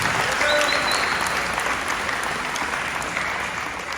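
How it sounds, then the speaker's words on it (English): Steady audience applause honoring a long-serving basketball coach at a Lutheran school gathering, a dense wash of many hands clapping at even loudness throughout, with a few faint crowd murmurs and no speech. "definitely give a round of applause for that"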